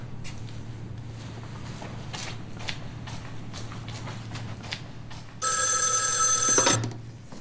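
An old-fashioned telephone bell rings loudly in one sustained burst of about a second and a half, following quiet room noise and soft footsteps.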